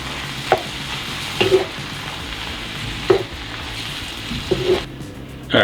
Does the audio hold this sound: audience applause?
no